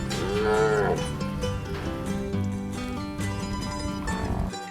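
Bull cattle on a Florida ranch moo loudly and fuss, with one long bellowing moo at the start followed by more lowing and restless calls throughout, close and continuous.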